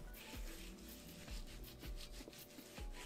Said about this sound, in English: Combine your seasonings in a bowl and you're gonna rub it all over